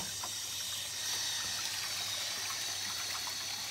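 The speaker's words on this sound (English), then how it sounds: "we're going to open up the air bleed valve, open up the drain plug, and let it drain out" Water running out of a pool cartridge filter through its opened drain plug with the air bleed valve open, a steady hissing trickle and splash that continues without a break; no talking.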